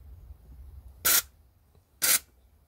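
Compressed air from a hose nozzle blasts through the passages of a 1954 Johnson outboard carburetor in two short, sharp hissing bursts about a second apart, loud and close over a low background hum.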